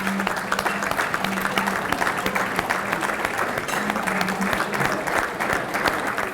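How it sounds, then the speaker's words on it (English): An audience at a school leadership summit gives steady, sustained applause, a dense continuous wash of clapping that holds evenly throughout with no talk over it. "How about a big round of applause for Dr. Perkins and everything she does for"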